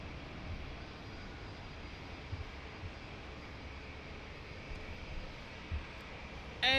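An airliner rumbles steadily at Lisbon Airport during its landing, a broad continuous engine roar at moderate distance with no voices, ending in a sharp louder burst at the very end.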